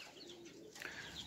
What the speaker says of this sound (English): Pigeons are actually wonderful birds.